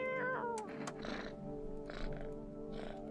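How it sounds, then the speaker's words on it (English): A cat meows in a video game, a clear close call at the start with softer meows following, heard over a steady low background hum. "Let's pet the cat."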